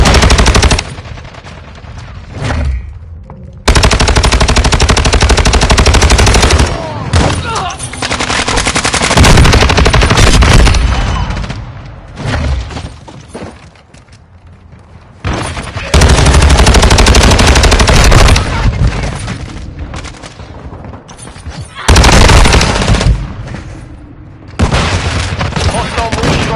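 Loud, close gunfire in Call of Duty Modern Warfare 2 comes as long machine-gun bursts and booming blasts, broken by short quieter gaps, with in-game voice callouts mixed in.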